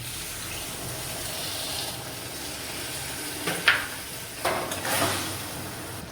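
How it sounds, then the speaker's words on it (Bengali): A bowl of hot water is poured into kakrol posto, pointed gourd cooked with poppy seed paste, sending a brief close splash and gush over a quiet steady hiss from the stove. "এখন আমি দেব 1 বাটি গরম জল।"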